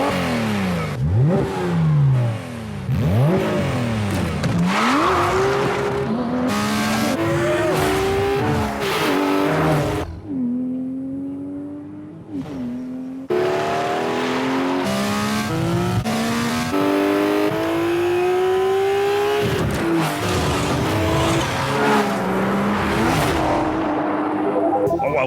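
A limited-edition Porsche 911 with a naturally aspirated 4-litre flat-six engine revs hard, its pitch climbing and dropping through repeated gear changes. A brief quieter lull comes midway, then the engine builds again at close range.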